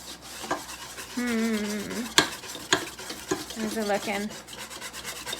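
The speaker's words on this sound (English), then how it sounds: "I like to mix it with my whisk. So the whisk will get all those lumps and bumps out" Whisk stirring homemade playdough in a bowl, a close scraping, rubbing churn with a few sharp taps against the bowl, while a voice briefly speaks over it.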